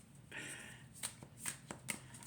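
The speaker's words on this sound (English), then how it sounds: "a side shuffle if you like doing that." Oracle cards side-shuffled in quick succession, a short papery rush followed by three sharp flicking snaps, close and clear.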